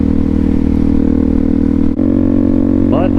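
A Suzuki DRZ400SM motorcycle with an FCR39 carburetor idles steadily and loudly in the snow, with a short blip of throttle revving near the end.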